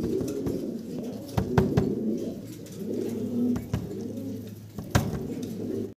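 Fancy pigeons in a loft coo softly and repeatedly, low rolling calls close by, broken by a few sharp clicks and knocks of wings or feet.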